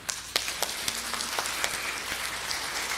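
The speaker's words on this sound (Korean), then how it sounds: "하나님께 박수를 한번 합시다." Members of a church congregation clap during a sermon, a brief patter of scattered hand claps at moderate distance over a soft, hissy room background.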